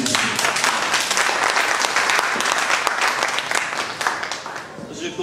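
An audience at a pastors' book signing event applauds, dense steady clapping from many hands throughout, fading slightly toward the end, with voices faintly underneath.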